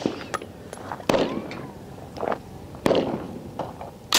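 An AR-15 rifle fires several sharp, loud shots spaced irregularly a second or two apart, each crack trailing a brief echo, with quieter scuffs and rustling between the reports.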